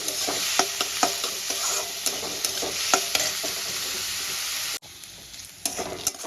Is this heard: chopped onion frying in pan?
yes